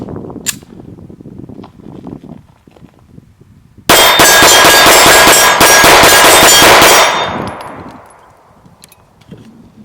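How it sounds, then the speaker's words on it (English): A Sig P226 pistol firing Winchester 115 grain ammunition in a quick, loud burst of rapid shots at a range, each report ringing with a metallic clang and then fading out. "Let's see if we can do a little rapid fire with this thing and see if it'll stay on target."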